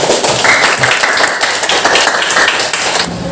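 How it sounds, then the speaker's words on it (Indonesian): A classroom of students claps together at the teacher's prompt, loud close steady clapping with a few voices mixed in, stopping abruptly near the end. "kalau menyenangkan, tepuk tangan semuanya"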